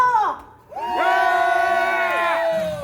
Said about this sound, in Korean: 다 함께 함성!